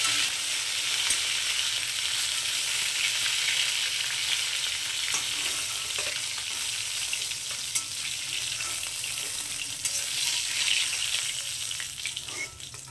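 Pieces of catla fish fry in hot oil, giving a continuous loud sizzle and crackle with scattered sharper pops throughout, no talk over it.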